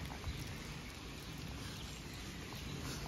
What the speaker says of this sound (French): Il pleut comme vache qui pisse.